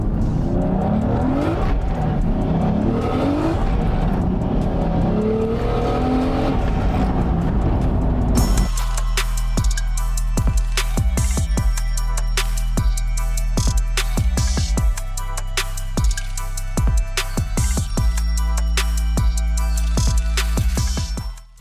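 A Toyota Supra with a track clutch roars and revs steadily as it drives hard on a track, loud and close, with shifts and sharp rev changes throughout.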